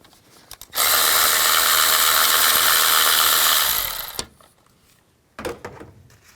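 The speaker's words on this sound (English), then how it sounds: "Take this bolt out, use a 10mm socket." Power ratchet with a 10mm socket spinning out an ignition coil bolt on a 2003-08 Nissan Maxima: one loud, steady whirring burst of about three seconds, then a few short mechanical clicks and clunks.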